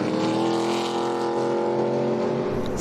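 A 2022 ARCA Menards Series West race car, the 05 car, at Phoenix's oval fires back up after spinning sideways. Its engine holds a steady, loud, buzzing drone with a strong harmonic tone throughout, and no one speaks.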